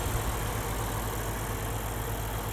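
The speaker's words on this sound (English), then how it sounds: "One of the quietest engines. So we can sit here and have a conversation." A 2023 Lexus IS 500 F Sport engine idles steadily and very quietly, a low, even hum with no revving and no voices.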